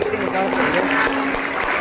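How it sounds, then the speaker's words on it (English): Applause from a school audience at a class VIII preamble recitation event as a guest is called to the stage, a dense steady patter of clapping over crowd noise with some voices mixed in. "Give a big hand for him."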